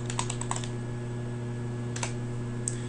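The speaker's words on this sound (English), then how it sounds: "Let's type in list." Keys on a computer keyboard tapped while code is entered in R: a quick burst of light clicks at the start, then a pause and a couple of isolated keystrokes, faint and close over a steady electrical hum.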